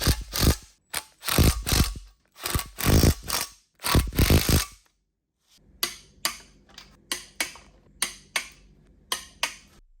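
A ratchet tightens 16 mm bolts on a high winch mount for a 2021-or-later Ford Bronco, giving a close, loud series of rapid clicking bursts followed by evenly spaced single ratchet strokes, with no talking.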